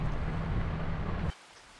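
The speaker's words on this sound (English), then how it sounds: "now it's raining" Rain in the Farming Simulator 25 game falls as a steady, loud hiss with a low rumble, then cuts off abruptly partway through, leaving near silence.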